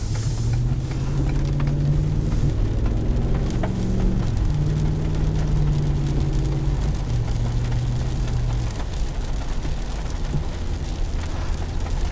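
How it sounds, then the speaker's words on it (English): A deep, rumbling engine of a 2019 Ford F250 pickup truck drones steadily as it drives, its low pitch shifting slightly, with no voices. "This truck has a much different sound to it."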